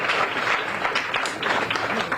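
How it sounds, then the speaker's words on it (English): Steady applause from an outdoor crowd at a groundbreaking ceremony, a dense, sustained wash of clapping that holds at an even level for the whole stretch with no voices standing out. "One more round of applause, man."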